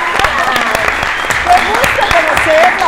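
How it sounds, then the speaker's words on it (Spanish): A studio audience on a Mexican television talk show claps loudly and continuously for guests, with a host's voice and other voices speaking over the applause throughout. "¡Un aplauso!"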